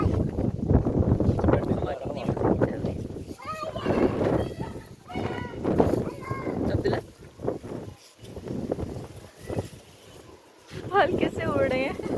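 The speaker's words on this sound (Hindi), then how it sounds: "बहुत तेज़ हवा थी।" Strong wind blowing outdoors roars and buffets the microphone in loud, uneven gusts, with a person talking over it throughout.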